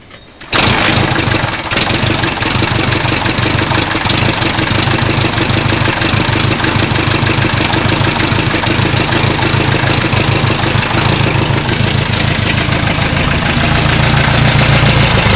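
A 1929 Henderson KJ motorcycle engine catches after a brief crank and settles into a loud, steady, close idle with a rapid, even mechanical throb that continues to the end.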